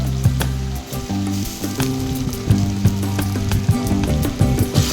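Garlic and ginger paste frying with onions in hot oil, a close continuous sizzle with bright crackles, under devotional shyama sangeet music with singing and instruments playing throughout.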